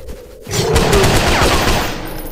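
Gunfire from a gun in the video game Forsake The Rake: a loud, sustained burst of rapid shots that fills most of the clip after a brief quieter opening, with no talking.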